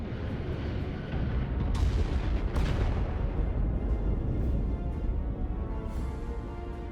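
Starship weapons open fire in Star Trek: Resurgence, a heavy, rumbling barrage with sharp booming blasts near the start and a sustained low roar that slowly fades away.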